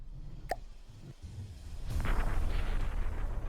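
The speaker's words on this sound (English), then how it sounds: "We're still having some cannons. A few of them keeping up the damage dealing." Battleship cannons fire in the naval combat game From the Depths, giving a sharp distant boom followed by a dense rumbling roar of sustained gunfire and explosions, with no talk over it.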